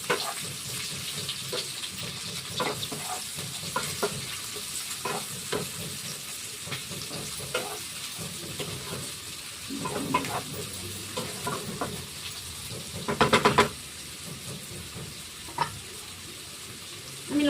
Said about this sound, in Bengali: আমি রসুন পেঁয়াজটা ঢেলে দিচ্ছি